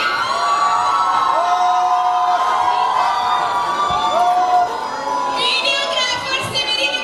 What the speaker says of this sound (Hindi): थोड़ा सा इनको और चिल्लाने दीजिए पहले.